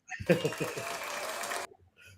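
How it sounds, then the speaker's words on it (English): Podcast hosts give a short burst of clapping in celebration of the Knicks reaching the finals, a brief dense patter that stops abruptly, with voices talking over it. "Real applause for that"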